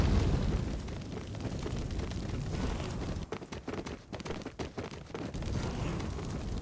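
Grenades explode in the survival game Soulmask, a dense run of loud booms and bursts with a rapid cluster of blasts in the middle, continuous and close, with no talk.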